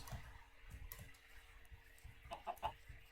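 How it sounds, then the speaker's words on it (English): Chicken clucking in Minecraft, a few short clucks spaced through the clip, clearest near the end, fairly faint under low game background noise. "It's only a chicken, but scared the crap out of me."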